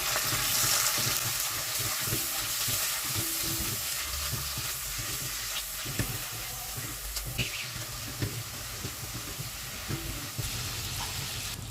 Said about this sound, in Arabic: حطيت في الحله معلقه من السمنه مع معلقه من الزيت يسخنوا وهنزل بكبد وقلوب الحمام